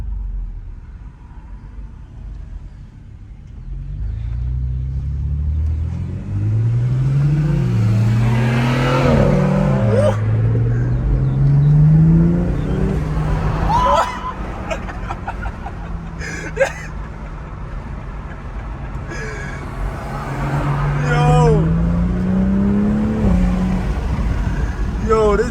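A 2020 BMW M340i xDrive revs from inside the cabin, its intake note rising and falling in several long sweeps, loud and close, while people talk and laugh over it.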